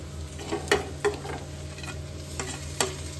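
Garlic and ginger dropped into onions frying in a pan for a chicken curry, giving a soft continuous sizzle with a few sharp spoon scrapes and taps close by, no voices.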